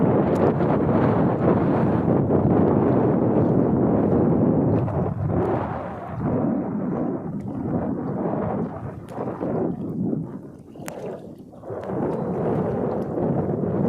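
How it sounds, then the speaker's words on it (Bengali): Strong gusting wind buffets the microphone through a storm on the water, steady and loud for most of the stretch with brief lulls, during a hook-and-line fishing outing in the Sundarbans, with no voices. "হাওয়া সেই সঙ্গে সঙ্গে প্রচণ্ড তুফান হচ্ছে"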